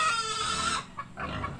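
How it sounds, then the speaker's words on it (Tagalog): Chickens cluck nearby in a quick, short burst of throaty calls. "Tapos nag-aalaga rin siya ng mga ilang piraso ng manok."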